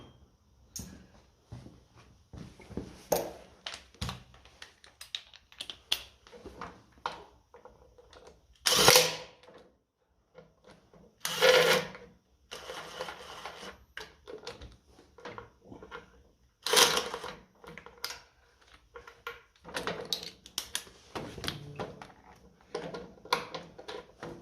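A pneumatic impact gun with an 11/16 socket runs bolts into a 1955 Ferguson TED20 TVO tractor during hydraulic repairs, giving three or four loud, brief rattling bursts between quieter clicks and handling noises.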